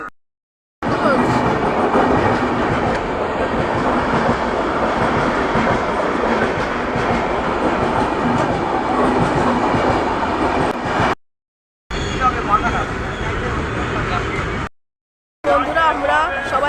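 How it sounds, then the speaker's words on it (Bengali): A Habra local train rumbles at a station platform, a loud continuous roar of wheels and carriages with clattering, broken by brief gaps, while people talk nearby. "প্ল্যাটফর্মে থেকে এবার ট্রেনে উঠে গেছে হাবড়া লোকাল"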